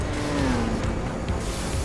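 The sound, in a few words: race car engine revving in a video game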